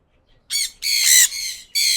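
A parrot lets out three loud, harsh squawks up close, the middle one longest, against an otherwise quiet background.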